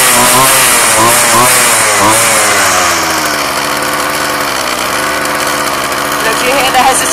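McCulloch chainsaw engine running loud and close, dropping from a rev to an uneven idle with audible hesitation, a buzzing drone throughout with a voice talking over it.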